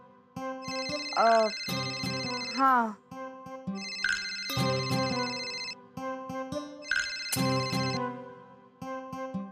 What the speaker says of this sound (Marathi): फोन वाजतोय की.